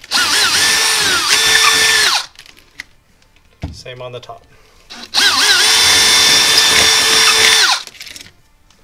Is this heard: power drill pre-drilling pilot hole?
yes